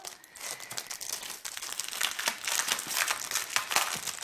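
Packets of envelopes being handled close up, continuous crisp crinkling and rustling of plastic and paper in dense bursts that grow busier, with no speech.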